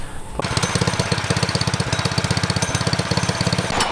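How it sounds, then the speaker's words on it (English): A mini bike's small engine starts after a brief quiet moment and runs loud and close with a fast, rough chugging beat, ending in a tail-off near the end. "the bike literally turns on, but as soon as the choke goes down, dude, the bike just dies"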